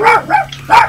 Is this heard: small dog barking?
yes